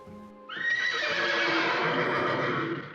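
A horse from the film Young Frankenstein lets out a loud, shrill whinny that starts suddenly and holds steady, close and clear with no talk over it.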